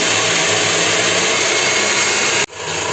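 An electric mixer beating cake batter gives a steady, loud, high-pitched motor whine and whir that cuts off abruptly near the end, then resumes.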